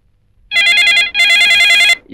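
A loud, close telephone ringing in two bursts with a short gap between them, then a brief sound just after.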